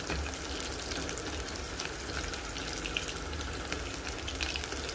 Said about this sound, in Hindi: तो ये ऑयल गर्म हो चुका है तो हम इसमें ये बघार डाल देंगे ये मैंने डाल दिया और हम इसको अच्छे से लहसुन को थोड़ा सा लाल होने देंगे